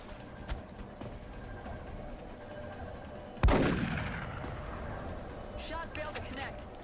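A single sharp gunshot from a turn-based alien-combat strategy game cracks out mid-clip and rings off in a long decaying tail, with fainter shots and game sounds around it.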